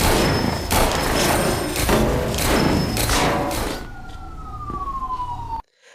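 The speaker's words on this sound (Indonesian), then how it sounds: "mereka mendengar suara sirine polisi yang datang ke lokasi kejadian" A police siren wailing and sweeping in pitch over loud, dense background noise with thuds, then gliding down on its own as the other sounds fall away, ending abruptly.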